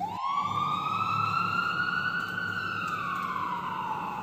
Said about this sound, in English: can you hear the sound of ambulance?